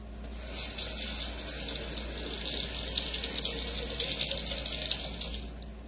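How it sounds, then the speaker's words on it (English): Water runs from a tap into a slow cooker pot, a continuous close gushing hiss that holds steady for several seconds with no talk over it. "Now I'm gonna put some water into this."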